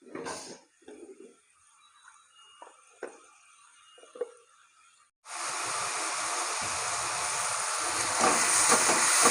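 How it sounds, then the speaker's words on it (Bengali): Spice paste for a Bengali Bata fish curry is fried in oil. A few soft clinks come first, then a loud, steady sizzle bursts in and keeps going, growing slightly stronger. "মশলাটাকে কষিয়ে নেব।"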